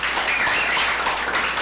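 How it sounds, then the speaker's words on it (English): A brief, dense wash of crowd clapping at a fall varsity athletics awards ceremony, steady and fairly close throughout. "just give Brock and all who made tonight happen a big round of applause"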